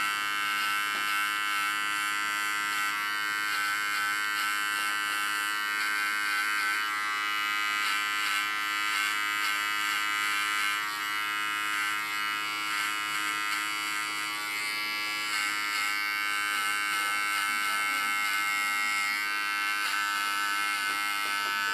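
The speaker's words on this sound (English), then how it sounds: "And now with my small clipper I'm going to create some tattoo art in it." A small electric hair clipper cutting tattoo-style art into a short haircut gives a steady, close buzzing hum that runs continuously without pause.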